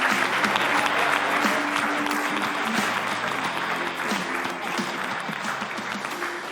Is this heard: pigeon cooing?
no